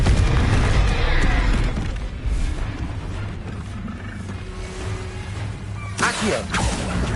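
A fiery Confringo spell explodes in Hogwarts Legacy, a loud, close booming burst at the start that rumbles and fades, followed by combat clatter and a second sharp impact near the end, with spoken lines mixed in.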